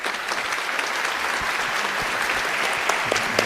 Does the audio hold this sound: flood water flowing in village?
no